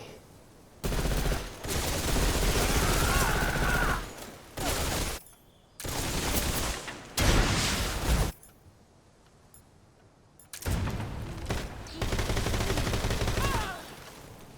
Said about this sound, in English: Dieses MG rotzt dich weg.